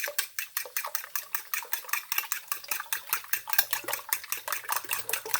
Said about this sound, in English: You're going to beat your eggs like so with a fork.